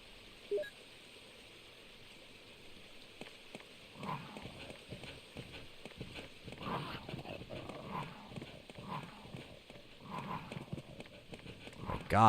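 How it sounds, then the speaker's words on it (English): Zombie dogs in Resident Evil: Director's Cut on PS5 come running with quick, rhythmic padding footfalls and snarls that swell in bursts through the middle of the clip, under some talking. "Oh God, these fucking doggos."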